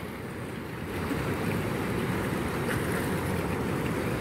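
Strong ocean waves break against the concrete tetrapods of a seawall in rough, murky surf, a steady loud roar of churning water with wind buffeting the microphone, and no voices.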